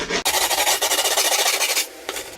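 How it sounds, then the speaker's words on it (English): A screwdriver rasps steadily along the edges of skateboard grip tape on the board, a close, loud scraping stroke repeated in quick rhythmic pulses. "we'll take something like a screwdriver and we're going to rub along the edges of the board"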